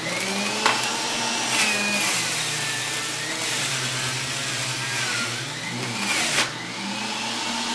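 Breville juicer running, a loud close motor whine that shifts pitch up and down as produce is pushed through, with a couple of brief thumps.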